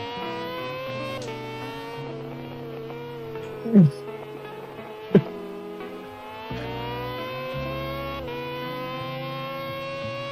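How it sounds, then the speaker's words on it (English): Race car in a racing video game, engine droning steadily with gear changes, and a short sharp tyre squeal cutting in midway followed by another brief chirp; voices talk at times. "I actually heard the tyre squeal."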